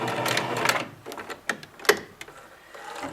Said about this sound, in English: I'm just going to sew them across the top.